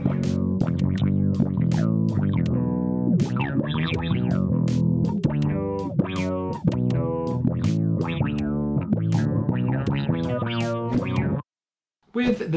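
A bass guitar runs through Logic Pro X amp-preset effects, its busy melodic phrases sounding processed and slightly distorted with chorus-like shimmer, close and continuous before a short drop to silence near the end.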